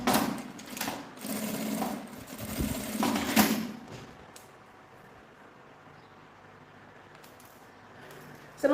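A sewing machine stitching fabric while a small frasqueira bag is made, running loud and steady for about four seconds in a burst of rapid mechanical whirring, then stopping and leaving a quiet room tone.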